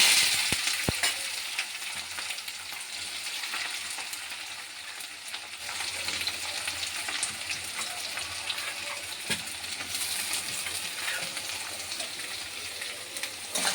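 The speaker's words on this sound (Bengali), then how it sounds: "পেঁয়াজটা দিয়ে দিয়েছি, এবার এটা একটু ভাজবো, একটু লাল লাল ভাজা হোক।" Chopped onion fries in a pan with whole garam masala as part of a chicken dish, giving a steady, moderately loud sizzle and crackle that runs unbroken for the whole stretch, with no voices.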